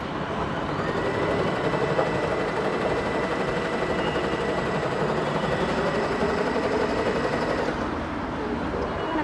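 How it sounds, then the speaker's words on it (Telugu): A domestic sewing machine runs continuously while stitching a demonstration seam, a steady close mechanical whir that stops near the end, and no talk. "ఇప్పుడు జస్ట్ మేము మీకోసం ఒకటి స్టిచ్ చేసి చూపెడుతున్నాం"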